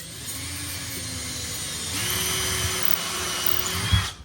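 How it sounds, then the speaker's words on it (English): A power drill runs continuously, driving a bit through a pre-drilled hole in mobile home kitchen cabinetry, a close, steady whirring buzz that rises slightly in load midway, with no talking. "put my drill bit in there"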